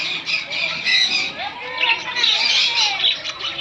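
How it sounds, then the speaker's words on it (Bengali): Many caged birds in an aviary at an ashram in Bandel keep up a dense, continuous chorus of shrill squawks and chatter, with a person's voice faintly mixed into the din. "কত পাখি রয়েছে এখানে"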